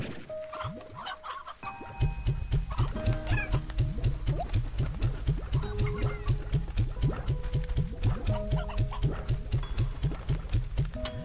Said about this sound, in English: One of them's gotta be a hen. Or a rooster, I mean.